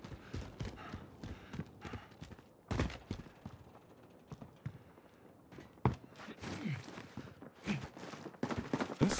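Heavy, exaggerated footsteps from a Call of Duty match (Modern Warfare versus Black Ops 2) clatter in a steady, hoof-like rhythm, close and loud, with occasional sharper impacts and shuffling as other players move nearby.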